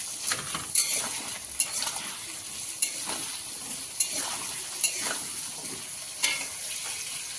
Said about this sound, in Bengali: এটা দিয়ে আলুটাকে লাল লাল করে ভাজবো